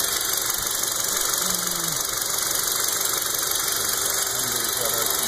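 A Kia Soul with its base 1.6 litre engine idling, a steady mid-pitched drone with faint knocking, constant in level and heard close up.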